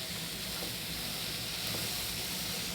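Carrot with a little turmeric sautéing in a pan for chutney, a steady, even sizzle and hiss throughout with no break and no talking.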